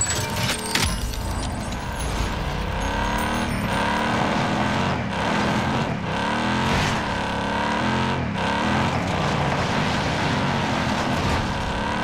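Engine of a Vanguard vehicle driving in a co-op video game. A loud, continuous motor drones and revs, rising and falling in pitch as it accelerates.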